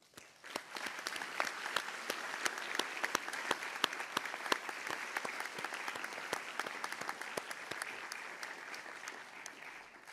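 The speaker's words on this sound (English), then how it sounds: "please, please give them a round of applause" Audience applause for the families at a school valedictory graduation ceremony, a steady dense patter of many hands clapping in a hall, sustained for about ten seconds and tapering slightly at the end.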